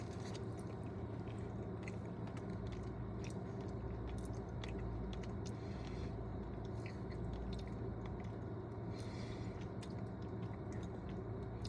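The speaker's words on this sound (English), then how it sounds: "So go in for a bit of that ackee and saltfish." Ackee and saltfish from a Jamaican takeaway being chewed close up, soft wet squishing and biting repeating steadily against a constant background hum.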